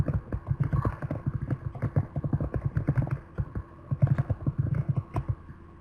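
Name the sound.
typing on keyboard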